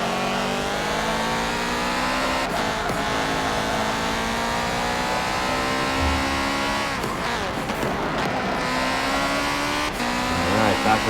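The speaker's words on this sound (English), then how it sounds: "Practically pretty much hear his engine noise from afar." A race car engine in the video game Forza Motorsport 7 drones steadily at high revs throughout during a Le Mans race, its pitch rising and falling with gear changes, loud and continuous with no talking.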